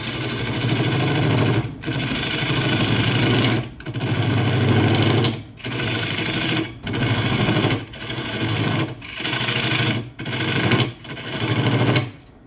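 Parting tool cutting into a sheoak bowl on a spinning wood lathe: a loud, steady whirring scrape in about seven sustained passes, each broken by a brief pause, with no talk.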